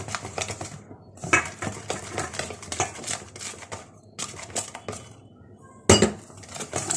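A cake batter of eggs, sugar and oil is mixed in a bowl, with quick, close clinking and scraping strokes in bursts separated by short pauses and one sharper knock near the end.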